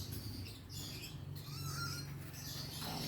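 Faint, high lovebird chirps and squawks scattered over a steady low hum, with no talking.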